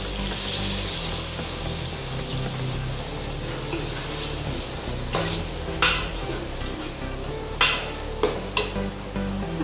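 A spoon stirs in a pot of chicken soup with potatoes and carrots under a steady background hiss, and a few sharp metallic clinks and scrapes come near the end.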